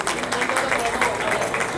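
Audience applause at an Independence Day international mushaira poetry gathering, a steady, dense wash of many hands clapping that holds at an even level throughout with no break.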